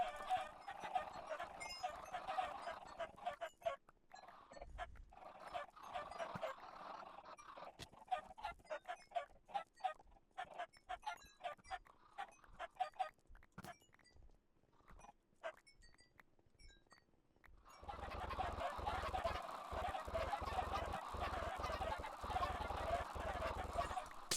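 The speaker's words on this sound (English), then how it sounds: "so now there's chickens everywhere." Faint, repetitive clucking from many Minecraft chickens overlaps with sharp clicking and tapping, with louder stretches near the start and end.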